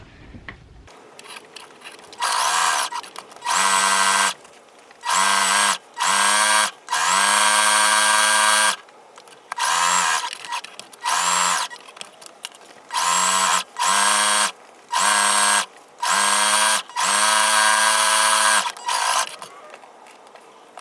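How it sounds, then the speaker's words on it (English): Sewing machine topstitching a quarter inch around the edge of a fabric head wrap at regular stitch length, loud and close in repeated short bursts with brief pauses between runs. "I'm going to stitch all the way 1/4 inch all the way around the edge"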